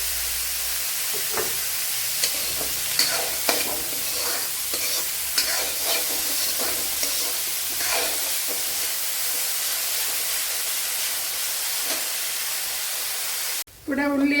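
Onions sautéing with salt in a pan give a steady, bright hiss and sizzle, broken by repeated scraping strokes of stirring. A brief louder change comes right at the end.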